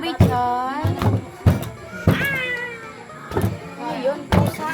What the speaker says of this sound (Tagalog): Ayun, pusa.